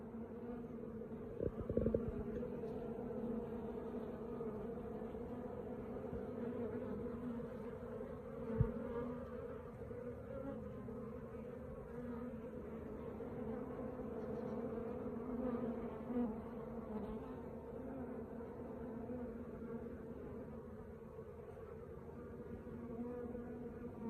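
A small swarm of honeybees in a poly nuc box in an apiary gives off a steady, low, soft hum. The buzzing continues without a break and no voices are heard.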